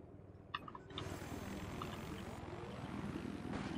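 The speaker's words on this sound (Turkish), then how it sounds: "Evet, düşman helikopter çıkmış." A helicopter in Battlefield 4 on the snowy Operation Whiteout map: a few sharp clicks, then a sudden, steady roar of rotor and engine that continues loud and unbroken to the end.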